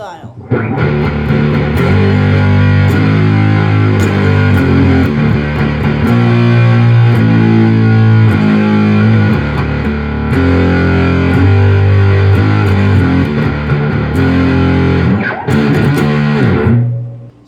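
Electric guitar through a Pro Co RAT2 distortion pedal set for a fuzzy tone, distortion knob at 12 o'clock, playing loud, sustained chords and riffs with a thick, saturated buzz that continues throughout.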